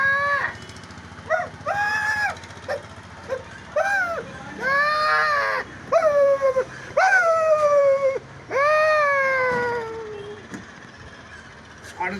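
A voice imitates a male goat approaching a female goat, a run of loud, close bleating and warbling calls in uneven bursts with short pauses between them.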